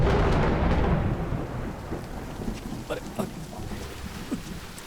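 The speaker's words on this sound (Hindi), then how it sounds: "जब मैं गाना गाता हूँ तभी बारिश होती है।" A heavy rumble of thunder rolls and fades over steady rain, with scattered drips and patters continuing afterward.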